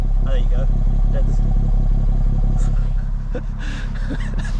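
BMW M140i with a fitted downpipe idling after a cold start, a steady low, throbbing engine rumble close by that settles slightly quieter toward the end, with a voice talking over it.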